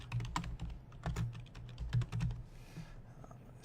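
Rapid close keystrokes on a computer keyboard in quick irregular bursts, fading to a short pause near the end.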